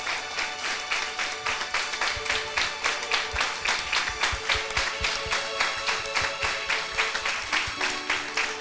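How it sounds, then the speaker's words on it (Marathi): A church congregation at a Sunday sermon claps in steady rhythmic unison, many hands sounding together in an even beat that carries on throughout. "टाळ्यांचं अर्पण आपल्या देवाला सादर करूया."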